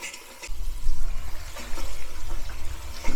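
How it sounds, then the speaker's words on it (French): Water rushing through pipes into a livestock drinking trough, a loud turbulent gushing flow with gurgling surges and spurts from trapped air, beginning abruptly after a quiet half-second. "maintenant l'eau est envoyée jusqu'au baquet"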